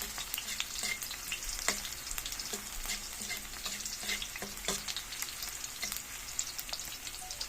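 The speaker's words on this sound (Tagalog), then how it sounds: "Mix na natin guys yung kamatis sa katanglad." Tomatoes and lemongrass being stirred in a pan for sautéed mung beans, with a steady sizzle of frying under repeated scraping and clinking of the spoon against the pan, close and continuous, with no talking.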